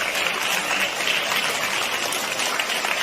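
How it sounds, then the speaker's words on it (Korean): Church congregation applauding during a Sunday afternoon service, a dense, steady wash of clapping that fills the space evenly for a few seconds with no individual claps standing out. "이 성도들이 왜 박수를 치는가 이유가 있습니다"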